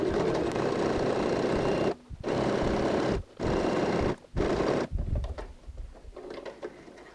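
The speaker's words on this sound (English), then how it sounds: "And now I go and start sewing with a back stitch." Sewing machine stitching a back stitch on a fabric tote bag, a loud close steady whirring hum in several bursts separated by brief stops, ending in softer clicks and handling noise.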